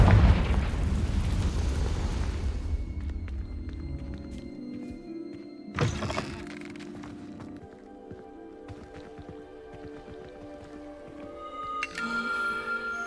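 Fiery spell explosion in the video game Hogwarts Legacy, a loud deep boom and rumble that fades over a couple of seconds into soft orchestral game music with a few light effects.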